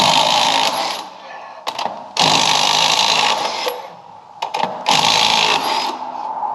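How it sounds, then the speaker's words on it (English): A small, cheap power drill whirs in several loud bursts, spinning up and winding down with pauses between, close by and buzzy. "Well, it's a crappy drill."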